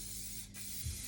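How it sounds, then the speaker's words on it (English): A short, steady hiss of spray is applied to pinned-back hair before makeup, close to the microphone and sounding alone. "A little bit of spray."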